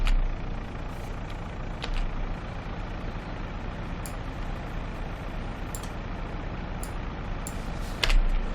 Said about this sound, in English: So let's turn the engine on.